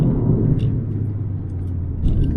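A deep, throaty engine rumble from a Toyota GR Yaris idling close by, steady and low with slight swells.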